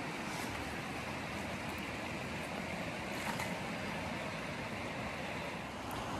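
A river flows beside the Appalachian Trail with a steady, full rushing wash that holds at an even loudness throughout, with no talking over it.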